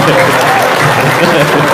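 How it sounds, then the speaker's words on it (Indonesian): An audience breaks into a short burst of dense, loud applause that fills the room, with voices calling out over the clapping. "Tepuk tangan lagi dong sekali lagi"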